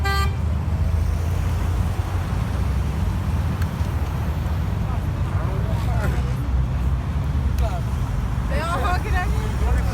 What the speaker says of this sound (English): They're honking at him.